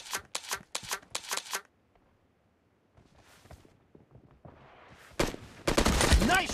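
Gunfire in the mobile shooter Battlegrounds Mobile India: four sharp rapid bursts up front, a quiet lull with faint movement, then loud close automatic fire returning at the end.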